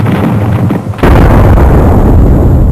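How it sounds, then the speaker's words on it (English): A huge explosion sound effect standing for the Big Bang erupts suddenly after a low rumble, then roars on as a loud, sustained broadband blast. "A huge explosion from which the simplest of the bacteria species evolved to become man."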